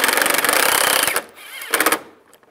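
A power driver sinks screws into the radiator cover of a 1999-2005 Volkswagen Jetta: a loud, close whirring run for about a second, a pause, then a shorter second burst.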